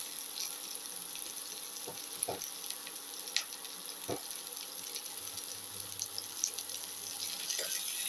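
Onion pieces sautéing in a salted pan for a ginger eggplant tomato casserole, a faint steady sizzle with a few soft stirring knocks, fairly quiet throughout.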